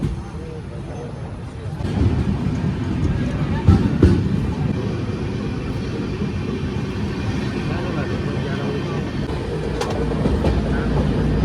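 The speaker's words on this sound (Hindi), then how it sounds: "गुफे के अंदर से जा रही है ट्रेन" A passenger train running through a tunnel in India, a loud enclosed roar and rumble heard from inside the coach with a few faint rail clacks, and people talking over it.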